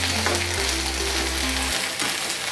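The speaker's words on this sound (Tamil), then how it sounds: "இஞ்சி பூண்டு போட்டு நல்லா வதக்குறோம்." Ginger and garlic sauté in a pan for Chettinad mutton pepper fry, with a loud, close, continuous sizzle under a low hum and no talking.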